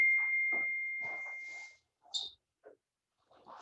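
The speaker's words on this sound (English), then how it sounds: "Sorry about that dinging." A phone ding sounds once as a steady tone under a voice giving chair exercise instructions, followed by a few brief faint tones and clicks.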